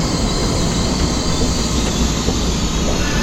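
A train in Taiwan rolls along the rails with a loud, continuous rumbling roar and a steady metallic rattle, close by, with no voices.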